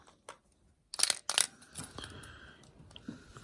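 Glass marbles fired from a B-Daman toy launcher, with a couple of sharp clicking impacts followed by a light rattling roll, close and fairly quiet.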